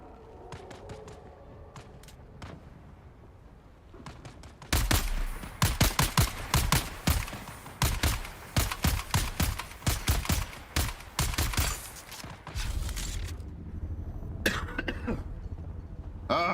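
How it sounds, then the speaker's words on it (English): Gunfire in the desert-planet video game Dune: Awakening: after a few scattered single shots, a loud, rapid string of automatic bursts rattles on for several seconds, then fades into steady background noise. "Shooting."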